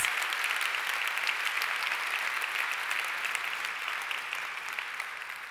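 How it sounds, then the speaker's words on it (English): Sustained audience applause at a peace prize award ceremony, dense steady clapping from a large crowd that fades slightly toward the end. "A round of applause for our Sydney Peace Prize winner, for Clover Moore."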